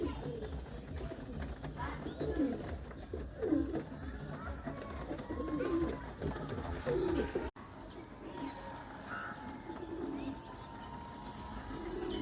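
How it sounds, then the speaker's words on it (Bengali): Pigeons coo repeatedly in a loft, including a wing-clipped female and other domestic breeds, with soft bird calls continuing near and far, and background voices murmuring underneath throughout. "পরকাটা মাদি কবুতর"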